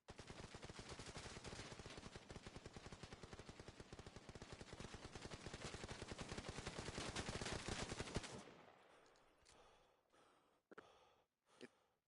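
A machine gun fires one long, steady, rapid burst of rounds for about eight seconds, then stops, leaving a few scattered clicks and breaths.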